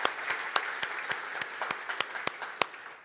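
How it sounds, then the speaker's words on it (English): A conference audience claps for an AV production team, a distant wash of applause with a few sharper single claps standing out at a steady pace. "I think we should all give them a round of applause for all the hard work they've done on the AV this year"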